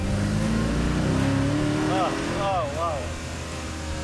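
A Chevrolet Corvair engine with headers roars loudly and steadily close by, with the pitch rising as it revs, while a voice exclaims over it.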